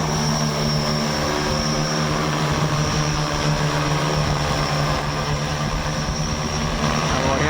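An agricultural spraying drone flying over a farm field, its rotors giving a loud, steady, close buzzing drone that holds constant throughout.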